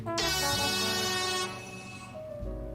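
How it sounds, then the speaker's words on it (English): A soundboard air horn blasts loud and sustained for about a second and a half, then fades into a lower lingering tone before a brief low rumble at the end, with no talking over it. "Air horn?"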